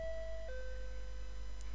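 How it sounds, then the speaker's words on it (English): A doorbell chime in a visual novel game rings as a clear two-tone ding-dong, the second tone held and slowly fading, alone with no voices. "As I'm enjoying my peaceful morning in the dining room, our doorbell rings."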